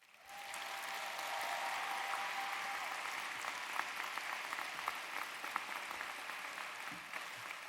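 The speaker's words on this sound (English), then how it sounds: "And now I'd like you to applaud as loudly as you can." A graduation crowd at UCF applauds loudly, a dense sustained roar of clapping that builds quickly and holds steady for several seconds.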